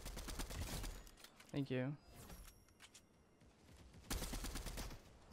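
Auto shotgun fire in a shooter video game comes in rapid bursts at the start and again near the end, fairly loud, with a brief spoken voice in the quieter middle.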